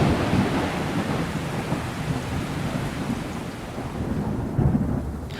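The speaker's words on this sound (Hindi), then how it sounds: "तभी अचानक तेज बारिश आ गई।" Heavy rain pours steadily while thunder rumbles low and continuous beneath it, loud and close, with no voices.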